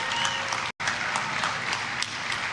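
A crowd at a political speech claps in sustained, dense applause, loud and continuous apart from a split-second dropout near the start.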